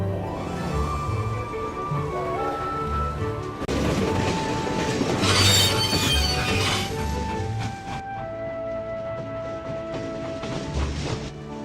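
A train stands at a small mountain village station with a continuous rumble and clatter of rail cars, layered with metallic squeals and a swell of activity midway; steady and fairly close, with no clear speech.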